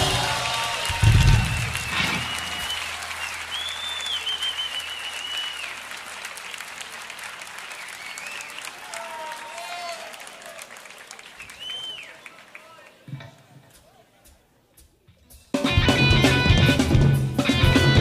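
Applause and cheering at a live concert, with a crowd clapping and whooping loudly for a performer being welcomed onstage, fading into quieter scattered claps and near-silence before a sudden loud burst of music or crowd noise near the end.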